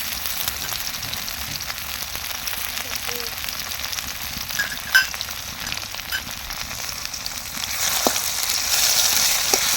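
Raw garlic, onion and cumin paste fries in oil, a steady close sizzle with occasional scraping of a stirring spoon, the frying growing brighter and louder toward the end.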